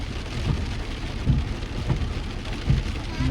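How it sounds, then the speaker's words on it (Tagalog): Heavy rain pours down steadily, a dense continuous hiss with a few low thumps, with no voices. "Lakas, grabe ang ulan,"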